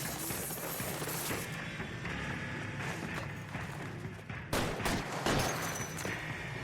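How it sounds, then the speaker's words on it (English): A suspect fires a gun in LA Noire, sending a rapid volley of gunshots through a noisy chase scene, with sharper, louder cracks toward the end over a steady background of game sound. "Oh, he's shooting at me."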